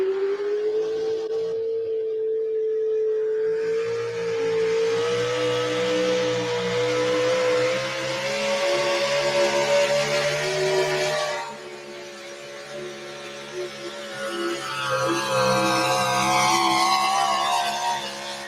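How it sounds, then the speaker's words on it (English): Racing truck engines roar loudly and continuously at the finish of an outlaw truck pull, Ford and Chevrolet trucks, a sustained high-revving drone that rises in pitch, with a brief drop near the end before the engine surges again. "Philip Chrysler, the last truck"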